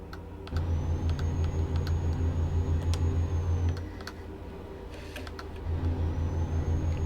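A tractor unit's engine in Euro Truck Simulator 2 hums as a steady low drone with faint clicks, easing off briefly mid-way before rising again, with no talking over it.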